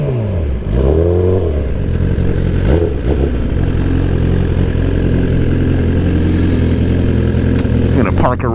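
A Suzuki GSX-R1000R motorcycle idles with a steady, close, throaty rumble after a brief blip of the throttle near the start. The engine keeps running evenly as it is parked during a morning commute.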